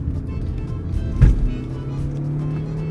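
A diesel BMW X4 20d M Sport SUV engine holds a steady low hum at its highest revs, with one brief louder surge in the middle.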